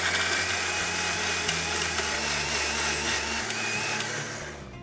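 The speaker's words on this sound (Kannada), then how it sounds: "ಇದಕ್ಕೆ ನೀರೇನು ಹಾಕೋದು ಬೇಕಾಗಿಲ್ಲ ಹಿಂಗೆ ಹೌದು ಹಿಂಗೆ ರುಬ್ಬಬಹುದು" A kitchen mixer grinder grinds coconut, curd and cumin into a paste with no water added, a loud, steady motor whir sounding alone throughout and winding down at the very end.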